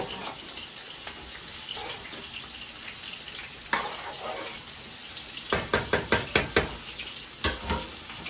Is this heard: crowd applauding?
no